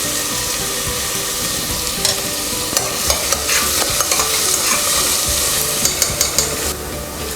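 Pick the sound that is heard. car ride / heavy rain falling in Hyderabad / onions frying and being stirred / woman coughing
onions frying and being stirred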